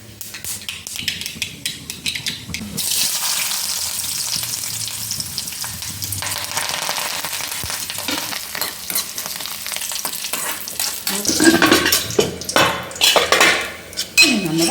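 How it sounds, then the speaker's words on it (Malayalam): Mustard seeds crackling in hot oil for a sambar tempering, heard as a bright hiss and sizzle mixed with clinking of a metal spoon and pan, growing louder toward the end. "കടുക് പൊട്ടിക്കാം"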